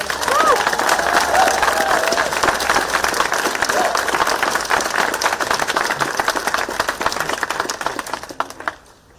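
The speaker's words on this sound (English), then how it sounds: "I want to say thank you for that round of applause and that greeting." An audience at a library grand reopening gives a sustained round of applause, dense clapping with a few cheers, loud at first and gradually thinning before fading out at the end.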